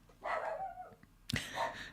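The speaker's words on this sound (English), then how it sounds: "Can you hear my dog?" A dog barks a couple of times indoors in the background, a whining yelp followed by a sharper bark, fairly faint.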